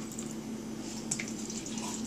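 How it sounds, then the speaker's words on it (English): Rum poured from a bottle into a glass gives a steady liquid trickle with a few gurgles, close and moderately quiet, lasting about two seconds. "You always add the rum first."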